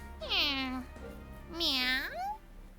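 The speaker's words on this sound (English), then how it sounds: "we should see a kitty cat" A cat meows twice in the video game Trails of Cold Steel IV, two clear, close, drawn-out meows with a short gap between them.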